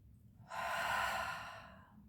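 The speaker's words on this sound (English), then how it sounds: "Breathing in and out." Slow, steady breath during a full-body foam ball roll-out exercise: one long, soft exhale swells after a quiet start and fades gradually over about a second and a half, close and alone without talk.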